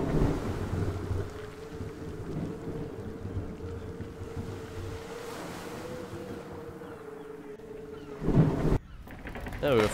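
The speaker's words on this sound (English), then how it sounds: "I reckon we can sail through this storm." In the sailing game Nantucket, a storm at sea rumbles with low, steady wind and a rolling drone, and a louder gust or crash swells near the end before a break.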